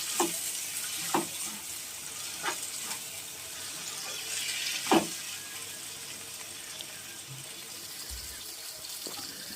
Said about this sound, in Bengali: পেঁয়াজ আর টমেটোটা মোটামুটি ভাজা হয়ে গেছে।